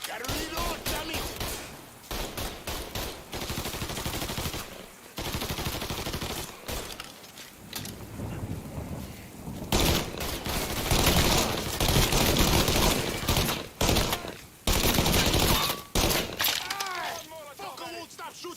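Enemy gunfire in the video game Mafia 3: loud, rapid bursts of automatic fire with brief pauses, close and continuous throughout, with some shattering impacts and voices shouting over the shooting.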